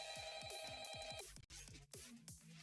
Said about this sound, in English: I hear that Nokia ringtone one more time